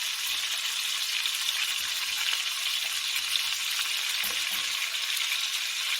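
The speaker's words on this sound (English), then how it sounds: "So I'm just browning the meat." Lamb meat browning in a hot pan gives a steady, dense sizzle with a few faint stirring knocks, close and even throughout.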